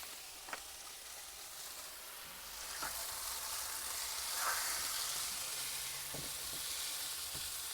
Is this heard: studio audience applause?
no